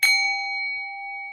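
A single bell struck once rings out clearly and alone, a bright ding whose sustained tone decays slowly over about a second.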